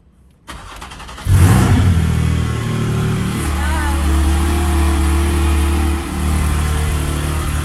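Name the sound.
car engine starting and revving on dyno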